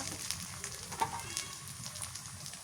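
Fried onions sizzling in hot oil with bay leaves and spice pastes of cumin and ginger, a steady close crackle and hiss with small pops and one sharper clink of a utensil, no talk.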